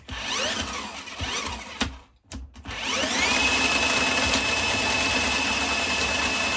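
A BAUER 20V cordless automatic-feed drain cleaner runs with a loud, steady motor whine and a rattling cable spin, cuts out briefly in the middle, then winds back up and holds steady as the direction switches from forward to reverse.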